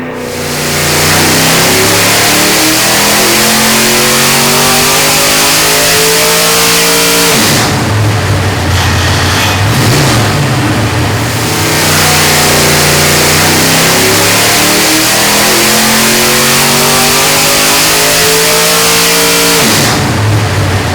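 A methanol-burning small-block V8 dirt modified race engine on a dyno, roaring loud and close through repeated rising pulls with harmonics climbing in pitch, dropping briefly near eight and twenty seconds before surging again.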